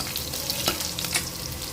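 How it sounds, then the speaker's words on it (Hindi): Finely chopped garlic frying in a pan for potato puri, a bright crackling sizzle with a couple of sharper spits, steady and close, with no one speaking. "अब इसमें डालते हैं बारीक कटी हुई लहसुन"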